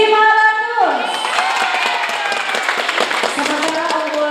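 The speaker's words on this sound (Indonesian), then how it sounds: "Kasih tepuk tangan dong." Audience applause and cheering at a team quiz competition, a crowd of clapping hands spread over several seconds after music cuts off, fairly loud and steady.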